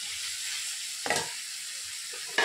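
Raw mango pieces go into a sizzling pan for a fish curry, a steady close hiss that flares in two short bursts as pieces hit the oil, with no one talking.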